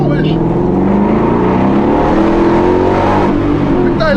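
A Shelby GT500 Eleanor accelerating hard, its loud, close engine note rising steadily over several seconds, with people talking over the roar.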